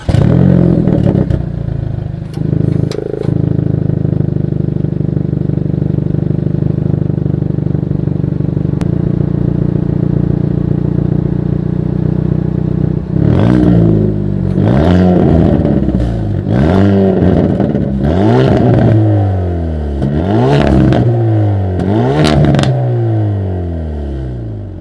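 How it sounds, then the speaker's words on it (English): A 2020 Hyundai Veloster N engine idles with a low rumble, then revs repeatedly in sharp bursts, each climbing and falling off with crackling exhaust, loud and close. "As always, here is that exhaust clip."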